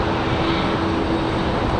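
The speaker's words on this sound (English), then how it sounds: "So this one here already cleared for takeoff." An executive jet takes off at Raleigh-Durham International Airport on a windy day, a loud steady engine roar filling the whole stretch with a faint tonal whine, no voices over it.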